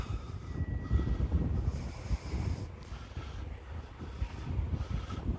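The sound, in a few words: wind blowing at RC plane flying field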